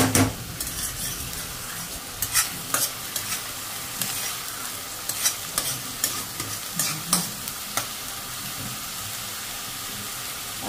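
Onions fry in oil in a pan for katla fish curry, a constant loud sizzle with frequent sharp metal spatula scrapes and clinks against the pan throughout; no one speaks.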